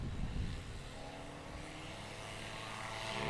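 A STOL aircraft's propeller engine applying power before takeoff at Patriot Airpark in Pocola, Oklahoma, a steady broadband drone that holds at moderate level throughout with no talk.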